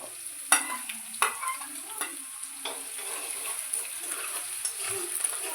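Ginger and garlic fry in a pan with a lively sizzle, while a spoon scrapes and stirs in several distinct strokes. No voices are heard.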